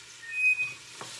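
Vegetables for a homemade Southern spaghetti sauce being stirred in a hot pan: a soft, steady sizzle with a scrape or two of the spoon, fairly quiet and close, no talking.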